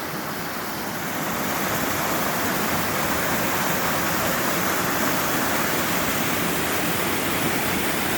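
A brook in Maine pours over small falls, making a loud, steady rushing roar that builds in the first second and then holds unbroken, with no voices.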